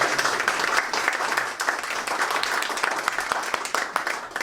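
A concert audience claps for a musician just introduced onstage, a dense, lively burst of applause that holds steady for a few seconds.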